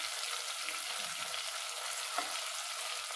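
Chicken frying in a pan, shallow rather than deep-fried, gives a steady, close hiss and crackle that runs unbroken throughout, with no one talking.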